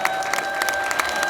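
Audience applauding for a pastor's wife at an outdoor Korean Christian patriotic rally, a steady wash of clapping with a few louder claps standing out, with a faint tone running underneath.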